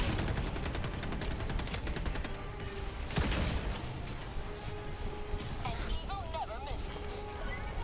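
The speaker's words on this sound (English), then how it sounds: "That's a turret. Oh, that's our turret." Automated turret firing in the Helldivers video game, a dense run of rapid shots with mechanical clatter amid chaotic battle noise, with a voice talking over it.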